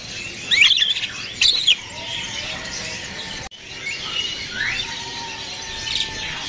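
Caged birds chirping at a bird seller's market stall, sharp bright tweets in short bursts near the start and softer calls later, over a busy background murmur.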